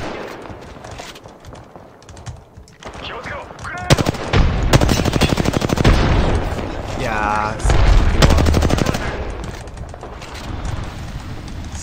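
Apex Legends gunfire erupts in rapid automatic bursts, loud and close, with heavy sustained firing in the middle and later stretches, while game voices speak between volleys.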